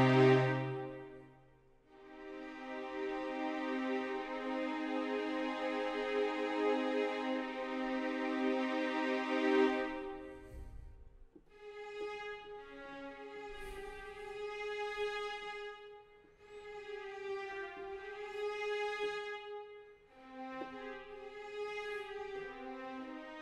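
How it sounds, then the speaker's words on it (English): Soft sustained strings from the Originals Intimate Strings sample library playing in Ableton, long chamber-style chords swelling and fading in several phrases, quiet and intimate with no voices. "So I've got Originals Intimate Strings loaded up here,"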